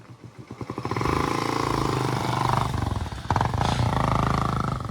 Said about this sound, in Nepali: त्यहाँबाट हो बाइक गयो